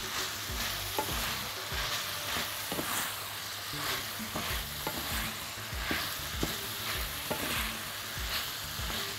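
Onions and meat fry in a pan under a steady sizzle, stirred with regular scraping strokes that thump about once a second, close and without talk.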